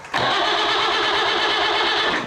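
A Leyland 154 tractor engine under restoration cranks and fires abruptly, then settles into a loud, steady, close-up diesel run that holds evenly for about two seconds.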